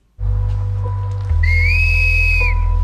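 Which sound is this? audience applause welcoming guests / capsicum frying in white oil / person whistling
person whistling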